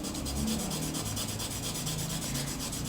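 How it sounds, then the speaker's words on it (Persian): A hard graphite pencil shading across paper in an ink-style drawing setup, giving a steady, close scratchy rasp that runs continuously without pause and with no talking. "صدای خشخش مداد رو میشنوی؟ خب این به خاطر سختی مداده"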